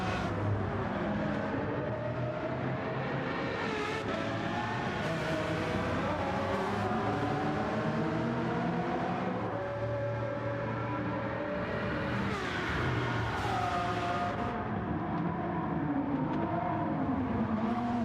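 A Lamborghini Aventador racing in Gran Turismo 7, its V12 engine droning and rising through gear changes, with other car engines layered in, steady and moderately loud throughout.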